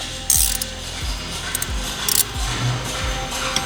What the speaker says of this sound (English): we'll get our 14mm ratcheting wrench